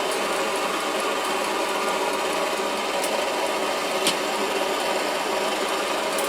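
A Svea 123 brass camping stove burns with a continuous, even roaring hiss, close and fairly loud, with one faint click partway through.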